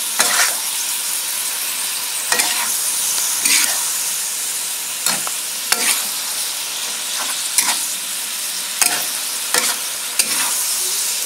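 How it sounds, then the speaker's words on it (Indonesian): Mushrooms, beef and mustard greens stirred in a sizzling pan, a steady fry crackle broken by a series of sharp scraping strokes of the spatula every second or so, close and clear with no talking. "Lalu kita aduk lagi sebentar."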